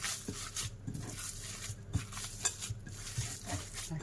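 Kofta meat mixture being kneaded and mixed by hand, soft irregular squelching and bumping close by with a few sharper knocks, no talking.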